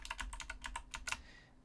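Fingers type quickly on a computer keyboard while someone writes C++ code, a close burst of about a dozen crisp clicks that stops and fades to quiet.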